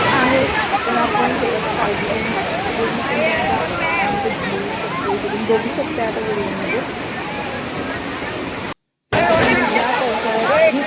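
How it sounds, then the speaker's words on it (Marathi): Savatkada waterfall near Kolhapur roars as a steady, broadband rush of falling water that fills the scene, with a person talking over it throughout and a brief dropout near the end. "हा मेन जो धबधबा आहे सवतकडा धबधबा"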